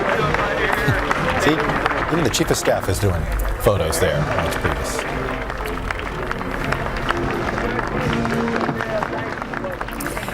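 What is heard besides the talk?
applause from inauguration crowd as Trump children walk out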